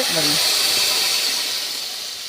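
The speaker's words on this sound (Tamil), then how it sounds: "கடுகு பொரிஞ்ச உடனே இதை எடுத்து ஊற்றிடலாம்" Hot mustard seed tempering is poured into a dish, giving a loud, steady sizzling hiss that fades slightly over two seconds.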